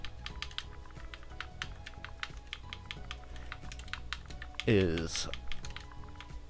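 Rapid clicking keystrokes on a computer keyboard, close and fairly quiet, tapping in quick irregular bursts with one heavier clatter near the end while a voice briefly speaks.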